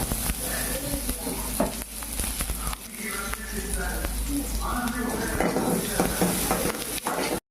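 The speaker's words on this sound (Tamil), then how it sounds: "ஊற்றி வச்சுட்டு வெங்காயம் போட்டுக்கலாம்." Onions fry in oil and a little ghee for a mutton gravy, giving a steady close sizzle broken by the scrape and clatter of a stirring spoon against the pan.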